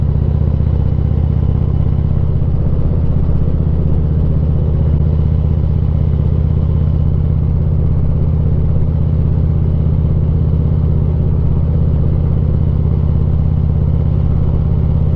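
A Harley-Davidson Ultra Classic motorcycle rides through a canyon, its engine a steady, loud low rumble mixed with wind roar, continuous for the whole stretch with no talking.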